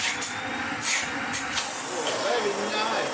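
A Sebo Felix upright vacuum cleaner runs with strong suction, giving a steady airy hiss and whoosh close by, while a person speaks briefly over it.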